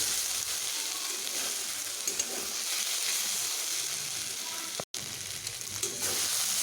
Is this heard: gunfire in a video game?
no